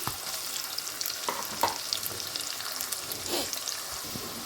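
Mixed vegetables with peas sizzle steadily in a hot pan, a soft continuous frying hiss broken by a few brief stirring scrapes, close and alone with no talk.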